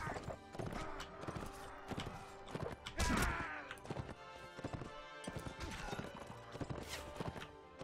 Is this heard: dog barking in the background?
no